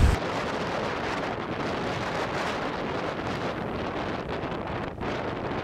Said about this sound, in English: So you can probably hear it is so windy today.